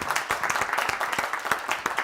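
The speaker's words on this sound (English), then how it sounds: "Everybody give Tom Gibbs a round of applause." Audience applause for Tom Gibbs at a live mid-century modern furniture talk, a short burst of many hands clapping fairly close and dense, with faint voices mixed in.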